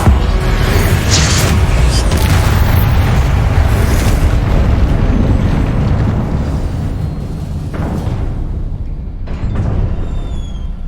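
Confringo spell explosions in the video game Hogwarts Legacy, loud rumbling blasts and bursts close by, booming almost continuously for several seconds before easing into quieter crackling and debris.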